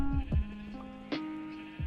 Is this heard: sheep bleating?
yes